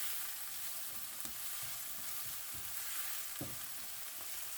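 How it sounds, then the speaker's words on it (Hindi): Onions stirred and gently sautéed in a pan, a soft steady sizzle broken by light scraping strokes of a spoon at irregular intervals. "अब हम इसे प्याज को मिक्स करते हैं, थोड़ा सा नरम हो जाए"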